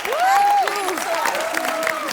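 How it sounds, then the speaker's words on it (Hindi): A studio audience on a comedy talk show applauds and cheers for a film's star cast, with clapping under loud sustained whoops and calls from the crowd. "एक बार बेगम जान की पूरी स्टार कास्ट के लिए ढेर सारी तालियां हो जाएं।"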